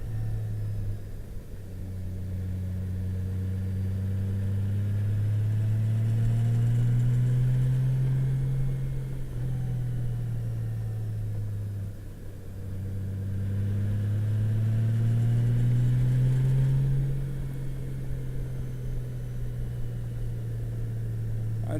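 Motorcycle ridden along the winding Ohio Tail of the Dragon road, its engine droning steadily with rising and falling pitch as it accelerates and eases off through the bends, continuous with wind rush and no talking.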